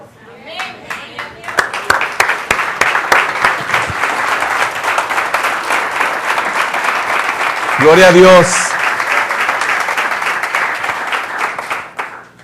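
A church congregation bursts into loud, sustained applause and clapping for the Lord, dense and steady throughout, with a voice speaking briefly over it and a short shout near the middle.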